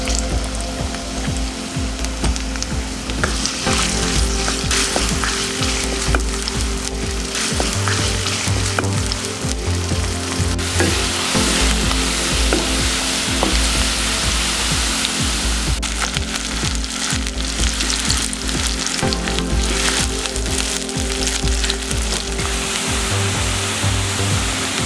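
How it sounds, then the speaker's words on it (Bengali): Onions frying in hot oil in a heated wok for crisp fried onions, a loud, steady sizzle that runs the whole time with faint scraping and no voices. "কিছু পেঁয়াজ আমি বেরেস্তা করে রাখবো।"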